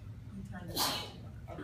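During a drama lesson, one short sneeze bursts out between bits of classroom talk, fairly near and distinct.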